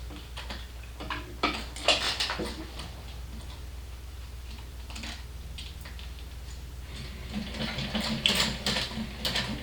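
A sewing machine stitching slowly all around a garment during final assembly, a steady low motor hum with rhythmic ticking and clattering of the mechanism, close and continuous, growing louder toward the end.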